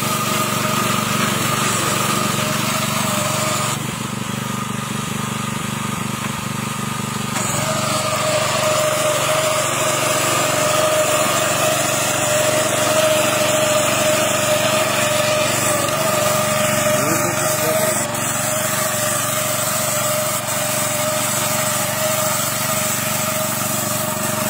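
A reaper crop-cutting machine's engine runs continuously in a field, a steady droning hum with a high-pitched whine that shifts slightly in pitch partway through, fairly loud and close with no talking.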